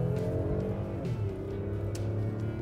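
A 2014 Toyota Highlander Limited accelerates hard on a wet freeway on-ramp, its engine note climbing steadily under a constant heavy road and tire hiss, heard from inside the cabin.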